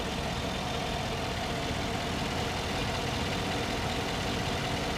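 A 2014 Chevrolet Silverado Z71 Off-Road pickup with a 5.3 liter V8 idles steadily, a continuous low rumble with no revving and no voices.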